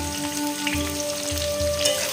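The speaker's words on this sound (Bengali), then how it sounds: "আলুটা এই যে ভাজা ভাজা হয়ে গেছে," Potato and tomato frying in a pan: a steady, close sizzle with soft, rhythmic stirring bumps underneath, and no voices.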